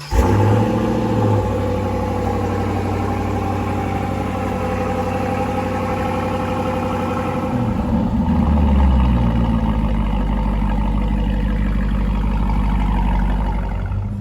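A 2020 Dodge Durango R/T fitted with Eibach lowering springs starts up, settling into a steady rumbling idle with a brief rev change partway through, close and loud, no talk.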